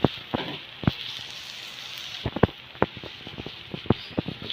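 Filipino adobo simmers in a pan with a quiet, steady bubbling, broken by sharp clicks and taps of a utensil against the pan, close up and with no talking.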